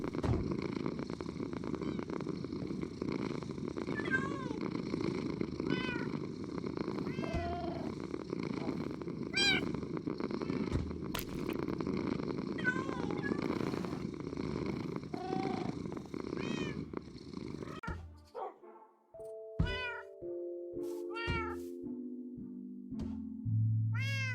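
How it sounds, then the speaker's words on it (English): A cat in the video game Minecraft purrs in a steady low rumble with several short meows over it, then the purring stops and a string of clearer meows follows, close and fairly loud. "the cat is sleeping on the bed"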